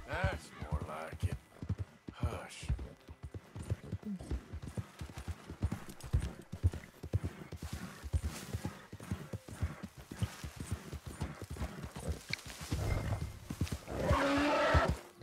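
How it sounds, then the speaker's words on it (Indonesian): Horse hooves clip-clop steadily through the Red Dead Redemption 2 video game, with occasional neighs and snorts close by, heard under ongoing speech. "Gila aja kecapean kudanya."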